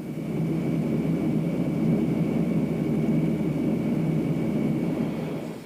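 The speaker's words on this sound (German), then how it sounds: "hier steht das Flugzeug, das uns nun aus dem Herzen Russlands zu unserem Startpunkt nach Kasachstan fliegen wird" Steady, loud engine drone of an airplane flying from the heart of Russia to Kazakhstan, a constant low roar with a faint high tone, heard from inside the aircraft.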